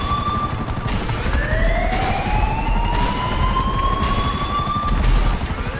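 A helicopter in GTA 5 Online thrums loudly and steadily with a rhythmic rotor beat, while a siren-like wail rises and falls over it.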